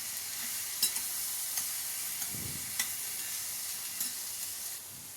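Beans and carrots stirred in a frying pan, a steady soft sizzle with a few light scrapes and taps of the spoon, close and fairly quiet, no talking.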